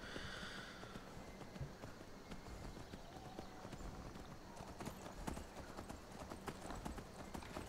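A horse's hooves clop in a steady, close, rhythmic gait while ridden through the video game Skyrim, with faint background ambience.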